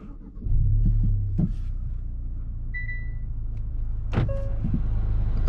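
A 2022 Hyundai Sonata N Line's engine starts up with a deep, steady rumble that holds throughout, with a few brief clicks and a faint beep over the continuous low drone.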